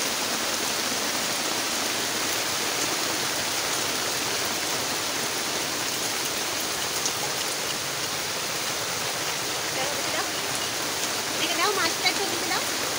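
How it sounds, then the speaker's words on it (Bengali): Heavy monsoon rain pours steadily outdoors, a dense, even hiss of water on surfaces lasting throughout, close and loud with no break. "এত বর্ষা শুরু হয়ে গেছে"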